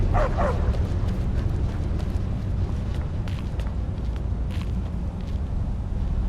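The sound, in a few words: dogs barking in a video game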